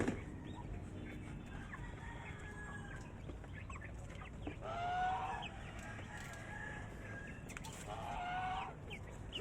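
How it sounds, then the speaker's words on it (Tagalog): Young chicks being fed in a backyard coop, with steady high peeping and cheeping throughout and a louder burst of chirps near the middle. Other fowl cluck faintly in the background. "Sisiw pa po kasi yung mga yan mga kaubayan eh."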